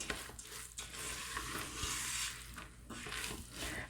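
Melting jaggery with slivered almonds is stirred in an Instant Pot, a soft, faint sizzle with gentle scraping strokes of the spoon and no talking.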